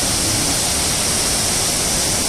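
Silver Falls in Kodaikanal swollen after rain, a dense, constant roar of pouring water heard close and loud, a steady hiss with no pauses and no voices.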